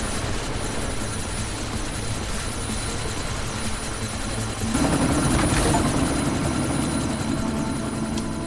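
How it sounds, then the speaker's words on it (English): A military chopper in the video game Deus Ex Mankind Divided, set in Bangladesh, a steady rotor and engine drone that swells louder partway through as it spins up for takeoff, with no talk over it. "That chopper's about to take off."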